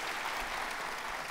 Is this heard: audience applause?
yes